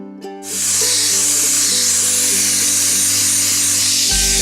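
A loud, continuous whirring power sander grinds steadily against a cracked plastic part being repaired, with a motor hum underneath, cutting off abruptly at the end.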